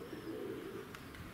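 Pigeons coo outdoors in a low, steady, droning murmur close by, with a few faint chirps breaking through near the end.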